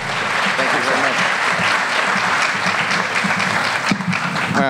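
A high school audience at a League of Women Voters forum in Mamaroneck gives loud, sustained applause to welcome the New York State Attorney General, with a voice speaking briefly over it.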